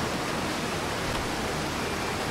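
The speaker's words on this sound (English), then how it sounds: "Oh jeez, the waterfall is loud." A loud waterfall on the starting planet in the video game Outer Wilds roars as a steady, dense, broadband rush without pauses or variation, heard alone with no talk.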